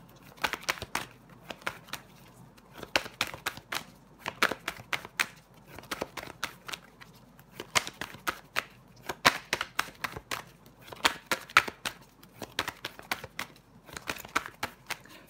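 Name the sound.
tarot cards being laid down to cover the Judgement card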